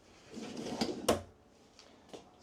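A kitchen drawer in a 2025 Keystone Cougar Half-Ton 23MLE fifth wheel RV slides and bumps shut, giving a quick muffled clunk with lighter knocks after it, fairly close.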